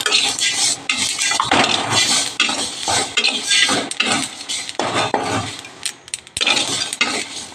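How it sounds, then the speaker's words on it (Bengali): Black cumin dry-roasted with garlic and chili in a dry wok: loud, close scraping and clattering of a metal spatula against the pan in an irregular rhythm, with faint sizzling underneath and no talk. "কালো জিরেটা শুকনো কড়াইতে একটু মেরে নিচ্ছি রসুন দিয়ে আর লঙ্কা দিয়ে"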